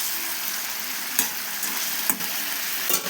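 A sarputi fish curry bubbles and simmers in a pan, with a steady frying-like sizzle throughout and a few soft clinks or stirring knocks near the start, middle and end; no voices are heard.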